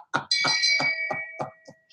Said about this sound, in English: You get a shame bell for that one.